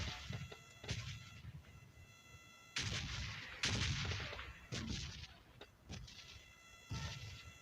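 Bombardment explosions in PUBG Mobile Lite land as several sharp, booming bursts at irregular intervals, some close together and some isolated, with quieter gaps between them.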